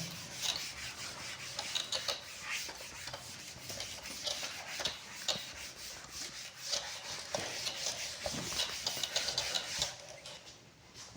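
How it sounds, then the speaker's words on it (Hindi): Steady scrubbing and rasping as a board is wiped clean in a classroom, a continuous close rubbing with rhythmic strokes and no talk over it. "चलिए इसको रब कर देते हैं।"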